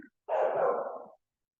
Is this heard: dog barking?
yes